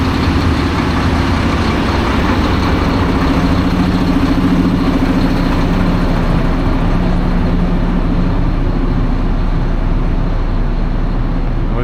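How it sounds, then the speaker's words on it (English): A Mack dump truck's diesel engine idles steadily and close by, a continuous low rumble with no pauses and no voices over it. "And I'm using the Mack dump truck."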